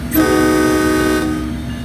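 An MPI F40PH-3C diesel locomotive on MBTA Providence service in Train Sim World sounds a loud, steady horn blast close by, holding a rich chord for about a second before cutting off over the engine's low rumble.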